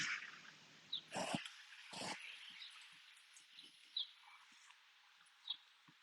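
A dog outdoors making a couple of short whimpers and soft growly noises, with a few faint bird chirps and hiss around it, fairly quiet and close.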